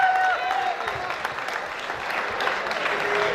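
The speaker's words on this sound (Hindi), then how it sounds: "जोरदार तालियां हो जाए राहुल व्यास के लिए" A college hostel-day audience gives loud, dense applause for performer Rahul Vyas, a last sustained tone fading at the very start before clapping carries on unbroken.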